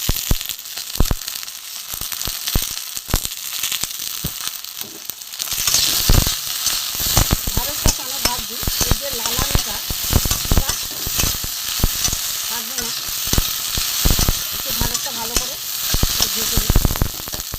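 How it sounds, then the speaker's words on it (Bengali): Okra sizzles and crackles in a hot pan, with a steady frying hiss under repeated scraping stirs and clustered oil pops, close and fairly loud throughout. "বন্ধুরা ঢ্যাঁড়সটা ভাজতে ভাজতে আমি কটা কাঁচা লঙ্কা ভেঙে দেবো"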